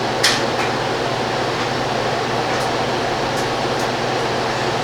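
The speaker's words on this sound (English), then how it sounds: "heat gun, watch out, it is hot" A heat gun blows hot air during a power supply repair, a steady close whooshing hiss with an even, unbroken tone and no talk.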